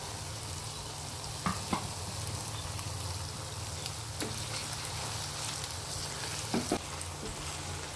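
Curry leaves and green chilies frying in hot oil for a chicken fry, giving a steady low sizzle throughout with a few brief pops and stirring clicks, no talking.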